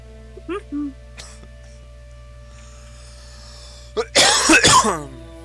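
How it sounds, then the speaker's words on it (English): A man on a gaming stream clears his throat and coughs: a couple of small throat noises early, then a loud, close burst of harsh coughing near the end against a quiet background. "Cough, cough."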